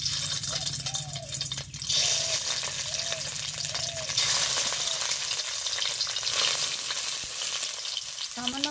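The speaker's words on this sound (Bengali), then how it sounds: "এই 4 পিস ডিম কিন্তু এই তেলে ভেজে নিব।" Eggs, four pieces scored lengthwise, fry in hot oil in a pan, with a steady broad sizzle throughout and a few soft clinks, in a kitchen where a cauliflower curry is being cooked.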